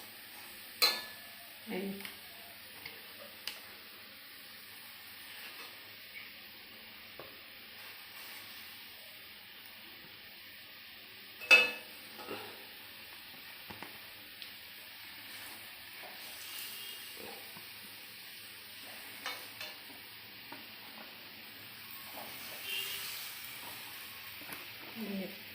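Hilsa fish sizzle softly in a frying pan as a steady faint hiss, punctuated by occasional clinks and scrapes of utensils, with someone speaking briefly near the start.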